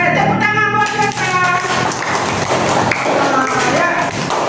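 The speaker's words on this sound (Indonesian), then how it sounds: "Ayo, tepuk tangan buat mereka" Applause for students during a classroom lesson on coding and computational thinking, a dense continuous clatter of hand claps that runs the whole time, mixed with lively voices and chatter over it.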